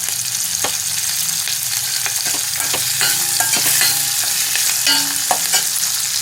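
Fenugreek seeds, cumin and asafoetida sizzle in hot oil as a tempering, a loud, close crackle broken by repeated clinks and scrapes of a spoon stirring in the pan.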